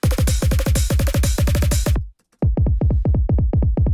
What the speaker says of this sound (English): if you guys want to groove your drums, pick Logic 16 Swing.